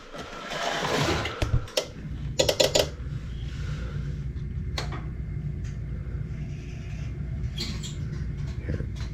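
Several sharp mechanical clicks from a faulty Honeywell zone valve end switch come in a quick cluster, followed by a few isolated ticks over a steady low hum.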